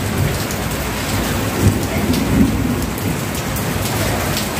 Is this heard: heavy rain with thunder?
yes